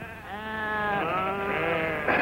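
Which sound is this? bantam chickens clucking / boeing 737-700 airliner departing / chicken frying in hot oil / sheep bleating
sheep bleating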